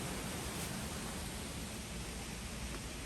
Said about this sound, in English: It just sounds like it's wind.